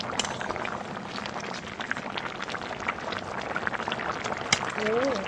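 Turkey curry with sweet potatoes bubbling steadily in a pot, a continuous soft boiling wash with no one speaking.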